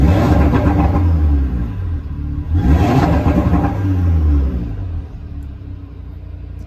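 A 2018 Audi RS3 in dynamic mode revs up twice in loud close bursts, each rising then dropping back, before settling to a lower rumble.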